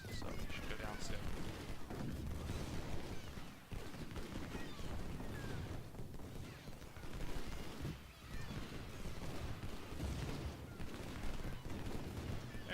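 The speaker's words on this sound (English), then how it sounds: "Finally get to fire into that artillery piece, so they should go down soon." Troops in a Civil War strategy game at Chickamauga keep up a dense, continuous rattle of musket volleys and cannon fire aimed at an artillery piece, with a voice talking over the steady din.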